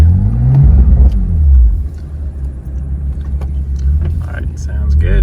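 A 2015 BMW M4 with its S55 engine drives off after an intake valve cleaning, a steady low engine rumble with a brief rise in revs early on, heard from inside the car.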